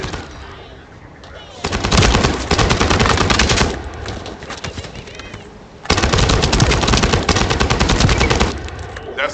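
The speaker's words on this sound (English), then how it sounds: "That stopped the gunfire." Two long bursts of rapid automatic gunfire in the video game The First Descendant, loud and close, separated by a brief lull with quieter background noise.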